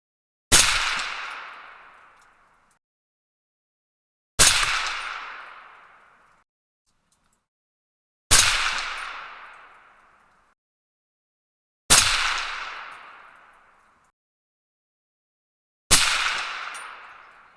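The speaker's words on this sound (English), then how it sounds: "This is 5 shots with the Speer Hot Core." Five sharp rifle shots from a 300 Blackout firing Speer Hot Core bullets, spaced about four seconds apart, each a loud crack with a ringing decay that fades over roughly two seconds, nothing else in between.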